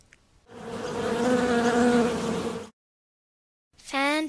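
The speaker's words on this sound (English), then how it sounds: "Bee." A bee buzzes steadily and fairly loudly for about two seconds in a quiet setting, with a brief rising electronic chime after a pause.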